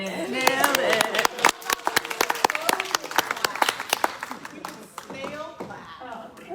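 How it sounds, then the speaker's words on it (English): An audience at an evening talk on pinto abalone restoration applauds the speaker, a dense burst of clapping that fades and thins toward the end, with a voice speaking over part of it. "let's give her a round of applause because she snailed it"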